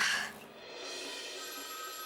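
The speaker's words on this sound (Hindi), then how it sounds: "फोन" A telephone rings once in a home, a brief bright trill at the start that fades into a steady, faint ringing hum with no talking.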